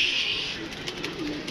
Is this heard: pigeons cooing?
yes